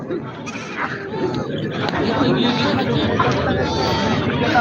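Goats bleat repeatedly over a busy background of crowd chatter and overlapping voices at a crowded outdoor goat market.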